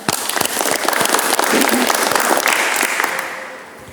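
An automotive vocational class bursts into applause, many hands clapping close by, some individual claps sharp and distinct, swelling then tapering off toward the end.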